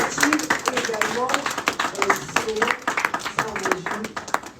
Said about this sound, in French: Est-ce qu'on peut applaudir, s'il vous plaît, encore une fois, pour cette belle initiative